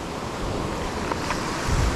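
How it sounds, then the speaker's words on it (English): Ocean waves wash onto a beach during shore fishing, a dense, continuous roar of surf mixed with wind buffeting the microphone, with no talk. "Are these waves crazy down here?"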